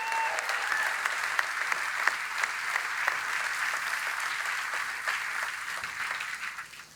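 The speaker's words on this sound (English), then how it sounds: "So let's give all these workers one more big round of applause." Sustained applause from a large crowd honoring Ford workers at a Kentucky EV truck plant announcement, a dense steady wash of clapping that holds evenly throughout and fades slightly at the end.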